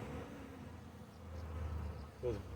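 Honeybees buzz around their hive, joined by hive beetles, in a steady low hum that swells slightly midway, with a brief louder burst near the end.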